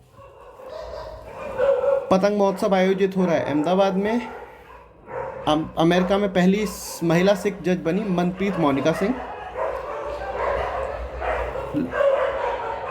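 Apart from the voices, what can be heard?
dogs barking and fighting in background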